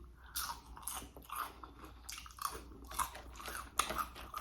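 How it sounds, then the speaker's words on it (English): Crunchy battered fried onion rings from Culver's crackle with loud, repeated crisp bites, then steady chewing, all close to the mouth with no speech. "Great crunch on it, not soggy."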